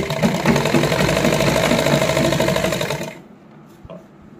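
A sewing machine stitches a salwar in one loud, close, continuous run of about three seconds before stopping, followed by faint handling sounds.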